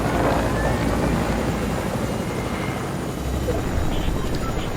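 A helicopter in the Fortnite video game whirs as a steady, loud roar that fills the whole stretch without pause, blending with rushing wind-like noise.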